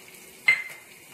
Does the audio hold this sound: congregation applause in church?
no